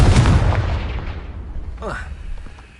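A Confringo blasting spell explodes in the Hogwarts Legacy video game with a heavy, booming blast that rolls away into a fading rumble, followed by a brief swooping magical whoosh.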